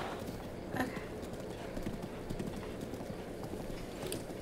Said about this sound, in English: Oh, my horse can jump.